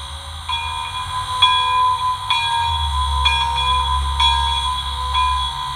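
A small train bell rings repeatedly at a steady pace, bright clangs about once a second over a low, continuous mechanical hum, from a Broadway Limited 2-8-2 model locomotive with a stock DCC decoder.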